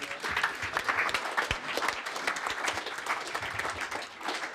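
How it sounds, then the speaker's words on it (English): An audience at a car club gathering applauds the forum, steady moderate clapping that continues evenly for several seconds with some crowd murmur. "big round of applause for the forum"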